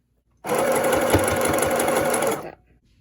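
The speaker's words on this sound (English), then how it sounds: "Sew the ties to both sides." A sewing machine stitches fabric ties onto a cloth face mask with a 1/4 inch seam allowance, running at a steady, fast whir for about two seconds before stopping, up close with no talking.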